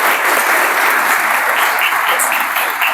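Sustained applause from a congregation at a church parish anniversary celebration, a dense steady wash of many hands clapping close by without pause.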